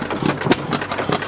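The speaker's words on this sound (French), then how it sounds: "Pour le progrès, ce moteur a plus de 110 ans." An engine over 110 years old runs at an agricultural museum, chugging with a loose, uneven rhythm close by, with a few sharp knocks and no talk.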